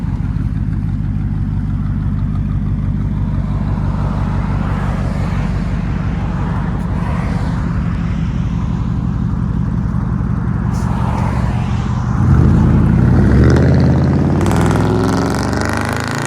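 A Dodge Dakota's 4.7 liter engine rumbles loudly through a double X-pipe exhaust, a steady deep drone held for several seconds before swelling into a harder rev near the end, close by with no talk over it.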